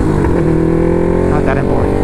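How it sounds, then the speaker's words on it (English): A motorcycle rides past on a road, its engine drone loud and steady with a rising pitch sweep, heard over continuous wind rush from a helmet-mounted view. "Well, there's a bike coming."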